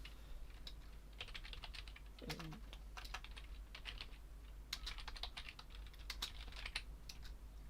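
Quick irregular clicks of computer-keyboard typing, a steady stream of keystrokes that sometimes bunch into short bursts, fairly close but quiet over a low hum while someone sketches a dragon for a channel logo.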